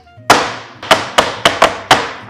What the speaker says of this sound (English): Now I'm gonna bang the tray because I can see some air.